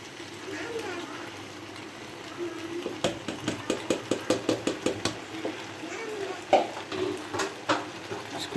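Sauce stirred into chicken vegetable macaroni in a pan, with a run of evenly spaced knocks of a spoon against the pan in the middle, then a few scattered scrapes, under a low background hum.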